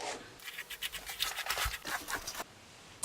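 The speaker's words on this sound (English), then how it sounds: "I'm just going to run my brush through it real quick" Hairbrush run quickly through mostly dry, freshly showered hair, a few soft bristly scratching strokes up close, heard alone.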